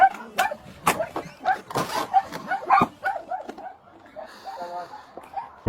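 A crowd of dogs packed into the rooms of a house bark, yip and whimper over one another in quick overlapping bursts, close by and fairly loud, with a few quieter calls near the end.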